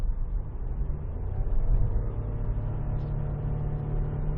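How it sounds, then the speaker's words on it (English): Toyota Yaris Cross Hybrid 130 under full-throttle acceleration, heard from inside the cabin as a steady, fairly subdued engine drone and road hum that swells slightly as speed builds, with no talking. "This is full throttle right now, car gains speed, and it isn't that intrusive to listen to."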